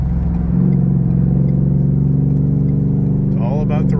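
A Ford Coyote V8-powered car accelerates on a multi-lane highway, its steady engine drone swelling slightly, then rising into a sharp rev near the end, loud and close throughout.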